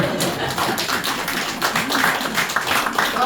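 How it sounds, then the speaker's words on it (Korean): An audience claps during a Korean religious lecture in a hall, a steady dense patter of many hands that fills the whole stretch without a break. "박수 칠만 하잖아요"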